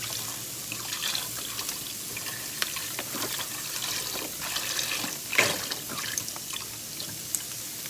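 A quart of beef stock pours into a pan of oxtail, a continuous splashing liquid stream with small drips and gurgles, close and steady over several seconds with no talking.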